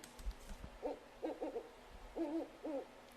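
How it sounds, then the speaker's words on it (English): Faint, distant owls hooting in short repeated pairs of soft hoots against a quiet night background. "Nope, that was just the owls."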